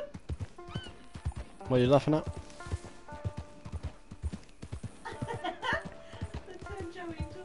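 Horse hooves clip-clop steadily in the video game Red Dead Redemption 2 as the horse is ridden, with a brief whinny partway through and a voice speaking over the hoofbeats.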